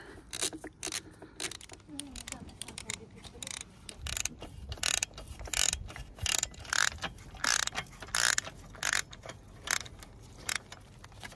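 Ratchet working loose the exhaust header nuts on a 2022 Yamaha XSR900, giving close, repeated clicking bursts in an irregular rhythm throughout, with faint metallic clinks between strokes.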